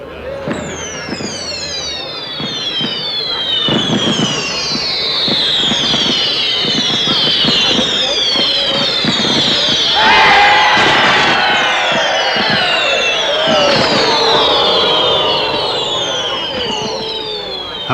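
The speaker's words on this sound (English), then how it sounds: "A suitable occasion for this might be a fireworks display." Fireworks display outdoors with a crowd: rapid whistling rockets rise and crackle continuously over loud bangs, while people cheer and shout throughout, fairly close and dense.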